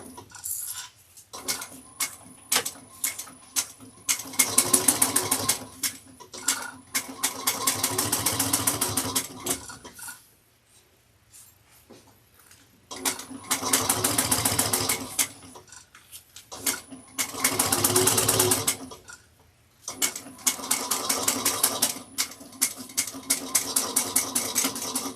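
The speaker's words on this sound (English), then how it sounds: "We're going to top stitch. Back stitch to the beginning," A sewing machine top stitches a bucket bag in several bursts of rapid, steady stitching separated by short pauses, fairly close and loud with no talking.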